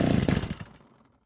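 A grass trimmer's small two-stroke engine catches with a loud buzzing burst, sputters unevenly and dies away within about a second.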